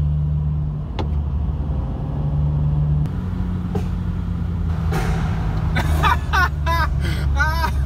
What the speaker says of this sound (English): I'll bring out the crackle tune, D-cell tune, whatever you want to call it.